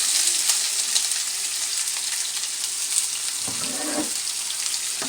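Chopped onions hiss in hot oil with toasted cumin seeds in a home kitchen pan. A steady, close sizzle runs throughout, with a few soft scraping stirs near the end.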